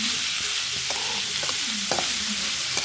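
Chicken and onion filling frying in a pan, stirred one-handed, with a continuous close sizzle and a few soft scraping strokes.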